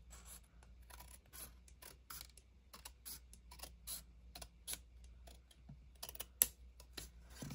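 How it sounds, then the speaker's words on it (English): Scissors snip paper strips at a crafting table, a quiet run of irregular small clicks and crisp cuts close to the microphone, with no voices. "grab your scissors. And then I'm going to go quite close this time."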